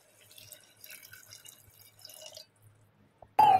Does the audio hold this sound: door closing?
no